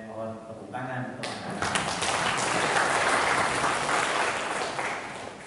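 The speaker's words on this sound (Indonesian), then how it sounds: "Saya mohon tepuk tangan untuk" Applause for prize-winning primary school children at an award ceremony, swelling from scattered claps into dense, sustained clapping from a large audience, with voices faintly audible at the start.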